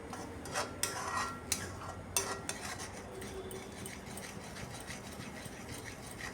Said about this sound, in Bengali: সব মশলা দেওয়ার পর আবারও খুব ভালো করে এটাকে কষাতে হবে।